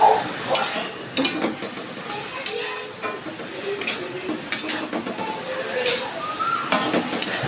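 A pointed gourd filling with salt and turmeric fries in a pan, a soft sizzle running under repeated scraping strokes of a spatula and occasional clinks of metal on the pan.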